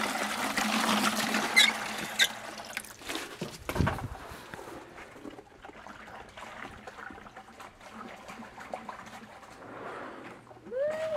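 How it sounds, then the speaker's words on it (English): Water sloshes and trickles in a bucket being rinsed out after clay making, with splashes, a pouring rush and dribbling, moderately close, no voices. "So right now I'm cleaning out this bucket."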